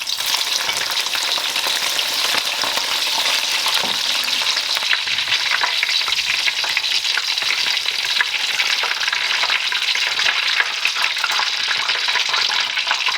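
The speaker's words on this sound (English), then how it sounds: "we're going to be deep frying the long green chilies" Hot oil sizzles and crackles steadily and loudly without a break as long green chilies deep-fry, a continuous bubbling fry with no voices over it.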